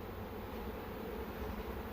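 A honeybee swarm hums in a continuous, dense buzz from many bees close by, steady and unbroken with no voices.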